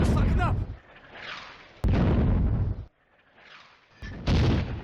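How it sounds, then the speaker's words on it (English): Soviet mortar rounds fire and burst in a World War II video game battle, loud booming blasts recurring every second or two with rumbling decay between them. "Soviet mortar rounds fly over their heads."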